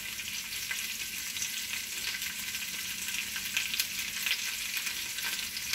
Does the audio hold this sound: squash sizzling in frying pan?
yes